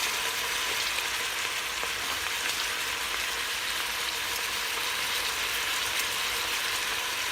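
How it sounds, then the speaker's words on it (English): Vegetables sauté in an Instant Pot with bay leaves, giving a steady, even sizzle and crackle that runs unbroken for several seconds, close by and alone without any voices. "we're going to continue to mix and saute the vegetables"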